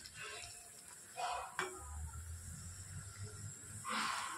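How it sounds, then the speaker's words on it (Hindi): Puri frying in hot ghee, giving soft hissing sizzles that rise in a few separate bursts over a quiet, low background rumble, faint and with no talk. "इस तरह से हमें पूड़ी तलना है"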